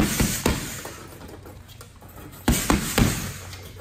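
Power hook punches land on a heavy bag as sharp, close thuds, a cluster near the start and another near the end, with quieter rustling between them.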